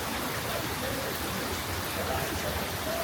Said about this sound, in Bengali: জোরেই হচ্ছে বৃষ্টি।